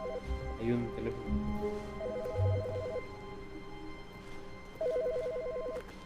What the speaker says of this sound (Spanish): No sé cuál teléfono es el que suena.